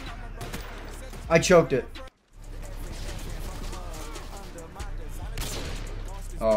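Bursts of video game gunshots crackle loudly in short volleys, broken by a sudden brief silence, while a player talks over the shooting.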